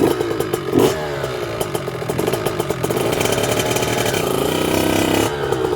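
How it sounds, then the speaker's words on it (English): A motorcycle engine revs while a 12-year-old learns clutch control, producing a loud, close, rattly mid-pitched roar that climbs and holds steady for several seconds, then eases off. "it's had a bit of a rev up"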